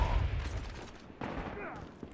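Gunfire in the mobile shooter game Call of Duty Mobile, with bursts of shots at the start and a second loud volley about halfway through, heard over steady game noise and background chatter.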